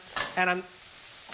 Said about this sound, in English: the sizzling sound means that I'm cooking or I'm stir frying.